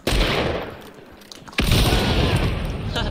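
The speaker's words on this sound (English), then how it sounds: "Bomb lands." A bomb explosion landing in the game Hunt: Showdown, a loud blast followed by a quieter lull, then a second heavy roar of debris and noise that carries through to the end.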